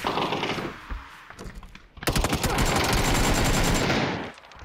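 Video game gunfire rattles in rapid automatic bursts, first a scattered patter, then a loud, sustained stream of close shots before cutting off abruptly.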